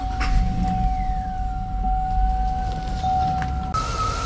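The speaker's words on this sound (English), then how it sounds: "now I'm going to start the car and see" A 2003 Cadillac Escalade engine runs with a low, steady rumble, loud and close, while a constant high electronic tone sounds over it and a brief rising whine appears near the end.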